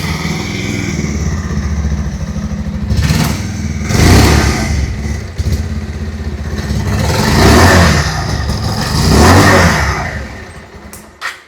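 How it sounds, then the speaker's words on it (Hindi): A 2026 Bajaj Pulsar 150 base variant motorcycle with single seat, its exhaust idling close by and rising in several loud throttle blips, roughly four revs spaced a couple of seconds apart, settling back to a steady idle between. "पहले सुन लेते हैं बेस वेरिएंट की एग्जॉस्ट नोट।"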